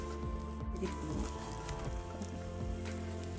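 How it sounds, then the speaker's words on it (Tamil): Halved bread slices warm in melted butter in a pan, giving a soft, steady sizzle with light crackling pops throughout, quiet and close. "நம்ம பிரெட்டை 2ஆக கட் பண்ணி உள்ள லைட்டாக அப்படியே சூடு பண்ணி எடுத்துக்கலாம்."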